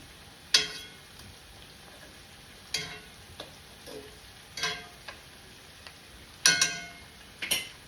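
A ham steak frying in a pan, quiet steady sizzle punctuated by several sharp crackles and pops at irregular intervals, close and faint with no talking.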